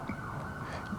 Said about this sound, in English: You brought the sirens here